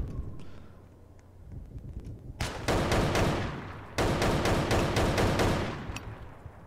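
Shotgun blasts in the Roblox shooter Oof Brigade, two bursts of rapid, loud booming shots in quick succession after a quieter stretch with faint distant pops.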